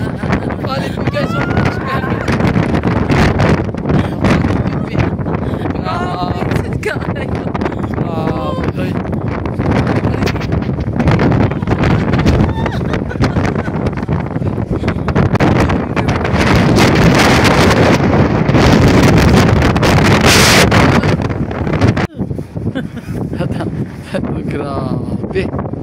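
Strong gusting wind at the Cliffs of Moher in Ireland buffets the microphone with loud, continuous rumbling roar throughout, while people talk underneath.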